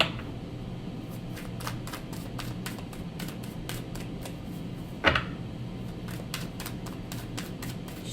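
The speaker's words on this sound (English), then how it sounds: "Too many cards. Hold on. They just spilled all over the deck." Tarot cards spill and are gathered back up, giving a run of soft, quick card flicks and slaps with one louder clatter in the middle, close and without talk.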